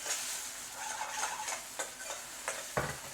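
Tomato puree sizzles in a pan with caramelised onions for lamb tikka biryani, giving a soft steady hiss broken by several stirring scrapes, close and fairly quiet.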